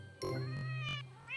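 A cat meows twice in the Cats are Cute mobile game, two clear close tones, one right after the other, with no talking over them.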